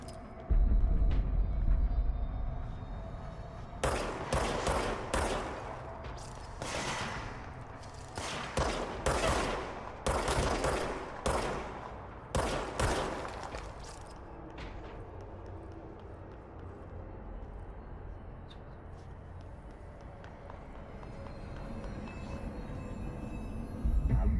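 Bursts of gunfire in the game Control, a cluster of sharp rapid shots between roughly four and fourteen seconds, fairly close, then fading into low quiet ambience.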